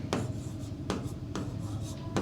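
Chalk or marker scratching across a board in a Class 11 maths lesson: four quick stroke bursts spaced about half a second apart, close and moderately loud over a low room hum, with no talking.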